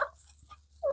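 Wild turkeys gobble outdoors in the woods, two short bursts at the start and end of a quiet second, moderately close.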